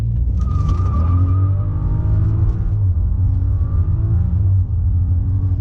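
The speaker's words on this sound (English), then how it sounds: "this might be a perfect place right here to go ahead and do a launch" A BMW F30 335i with full bolt-ons and Michelin Pilot Sport 4 tires does a launch-control start, its engine roaring loud and close as the pitch climbs steadily through the gears.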